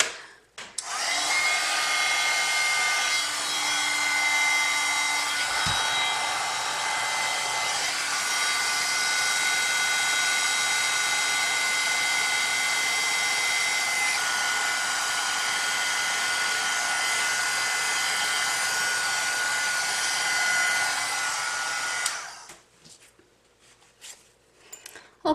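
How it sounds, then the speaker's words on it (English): A heat gun blowing steadily for about twenty-two seconds to melt embossing powder, a loud, even, close whirring roar that cuts off sharply near the end. "I'm going to go ahead and use my heat gun, my heat tool"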